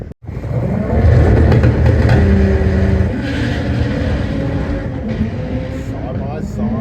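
Drag race cars, one four-wheel drive and one front-wheel drive, launch side by side at a Santa Pod test day with loud engine roar and rising revs. A commentator talks over the noise.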